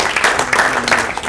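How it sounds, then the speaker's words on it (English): A small film crew on set gets a brief burst of applause, a few loud, close claps lasting just over a second. "Hey, can we get a round of applause for our awesome crew?"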